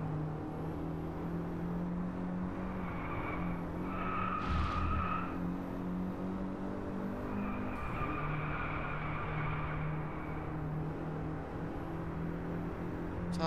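Race cars in the Drive Club racing game on PlayStation 4: engines drone steadily with tires squealing and skidding in a couple of bursts, with no speech over it.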